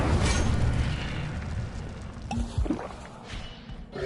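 Incendio fire spell cast in Hogwarts Legacy, a loud whooshing burst of flame with rumbling crackle, followed by a couple of softer popping impacts amid ongoing game noise.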